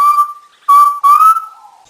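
An undulated tinamou (jaó) gives a clear, pure whistling call in three notes. The first is steady, the last two are louder and slightly rising, close and with no other sound.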